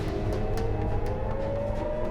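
Air raid sirens sounding in Israel during a rocket attack, a steady wailing tone that holds throughout over a dense, noisy background, moderately loud and with no speech.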